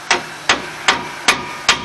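Five sharp metallic hammer taps come at an even, unhurried pace as a hammer knocks a rear brake rotor into place on a 2003 Dodge Ram 1500. The blows are close, loud and clear, with no talking.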